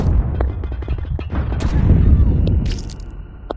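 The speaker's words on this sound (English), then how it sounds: "That is a wonky shotgun fight." A shotgun fight in a first-person shooter video game: heavy booming blasts and sharp cracks over a loud rumbling game soundscape, with scattered impacts throughout.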